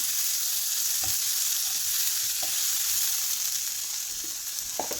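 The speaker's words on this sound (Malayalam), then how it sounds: "അതുകൂടി ഇട്ട് കൊടുത്തൊന്ന് വഴറ്റി കൊടുക്കാം." Tomato, ginger and garlic sautéing in a pan, a steady close sizzle of frying with a few soft stirring knocks scattered through, no voices.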